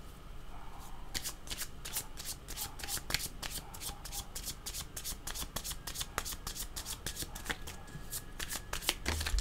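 Tarot-style cards for a card reading, shuffled in a quick run of crisp riffling flicks, close and fairly quiet, with no talk.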